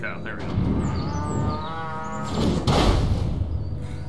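A cow moos loudly in the Destroy All Humans! video game, one long drawn-out call set against busy game noise.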